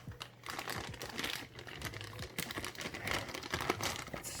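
Cardboard and plastic packaging for an XFX RX570/RX580 8GB graphics card crinkle and rustle up close as it is opened, with a steady run of small crumpling and scraping handling noises and no talking.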